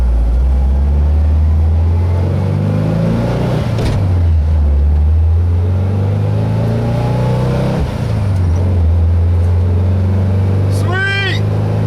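A bus engine drones loudly and close on a test drive, its pitch rising and falling through several revs and gear changes, with a voice breaking in near the end.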